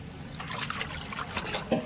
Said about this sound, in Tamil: அலசி அலசி நல்லா அலசுங்க